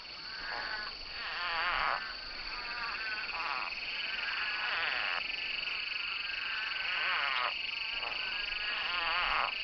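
Spadefoot toads call during the desert rains, a dense chorus of rapid pulsing croaks swelling and fading in overlapping bursts over a steady high insect-like drone.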